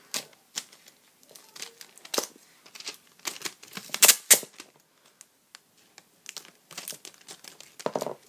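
Adhesive tape being torn and handled close up: a series of sharp crackling rips and crinkles in irregular bursts, with quiet gaps between.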